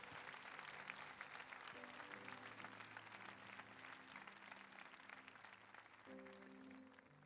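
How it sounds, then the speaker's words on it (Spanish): A church congregation applauds for Jesus Christ at an evangelistic event in Córdoba, a dense, continuous clapping that fills the room throughout with sustained tones underneath. "Fuerte el aplauso al Señor Jesucristo."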